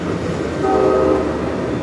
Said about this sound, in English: There's a good train.